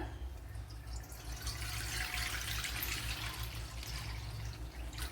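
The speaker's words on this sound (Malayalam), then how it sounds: "ഒരു പാൽ ഒഴിച്ചു കൊടുക്കാം" Milk is poured steadily over bread for a pudding, a continuous soft splashing and trickling of liquid heard close up without talk.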